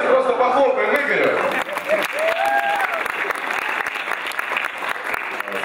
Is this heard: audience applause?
yes